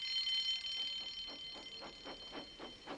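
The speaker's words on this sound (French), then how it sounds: "Soudain, l'alarme retentit." An electronic alarm rings with a high, steady tone, joined by a repeating pulsed beeping in a regular rhythm, moderately loud with no voices.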